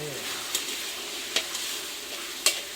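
Tomato and cucumber fry and get stirred in a pan for a fried egg dish, a soft steady sizzle broken by a few sharp spatula scrapes and clicks, close by and without speech.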